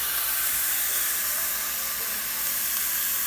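Steak searing in a scalding hot pan gives a steady, loud, close sizzle with dense hiss throughout, unbroken and without voices.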